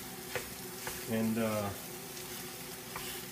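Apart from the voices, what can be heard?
Sausage-flavored sausage browning in a pan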